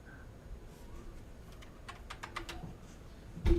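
Quick, light keystrokes on a computer keyboard come in a short irregular burst, quiet and close, with a louder thump at the end.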